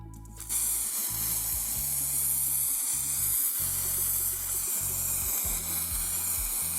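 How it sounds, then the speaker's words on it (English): Conte Paris fixative sprayed from an aerosol can onto a pastel portrait, a steady loud hiss that starts abruptly and runs continuously, with faint low bumps underneath. "Use again that Conta Paris spray here and spray a thin layer."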